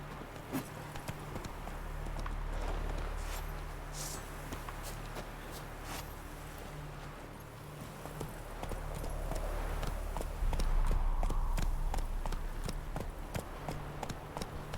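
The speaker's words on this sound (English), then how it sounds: "Whoa there, Roach" Horse hooves clip-clop steadily from Roach in The Witcher 3, a continuous walking gait of moderate-loud taps over a low ambient game hum, with no talk.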